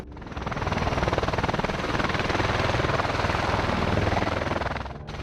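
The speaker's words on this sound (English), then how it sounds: "Attenborough Hospital helipad destroyed by USAF Osprey departure by accident" A USAF Osprey tiltrotor departing a hospital helipad, its rotors beating in a heavy, rapid, steady throb with a broad roaring wash, loud and close throughout before briefly dropping away at the end.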